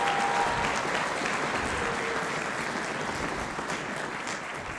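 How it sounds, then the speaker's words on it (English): A school holiday concert audience applauds the 5th grade band students, a steady, even wash of many hands clapping that holds for several seconds with no talk over it. "Let's have a round of applause for our 5th grade band students."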